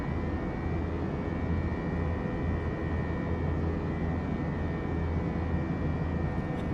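The jet engines of an Airbus A321 roar steadily and loudly during climb, with a dense broadband rumble and thin whining tones holding constant throughout, heard from inside the aircraft.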